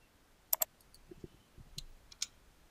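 Computer mouse clicks: a few faint, sharp clicks in quick succession, including a close double click near the start, followed by softer scattered taps in a quiet room.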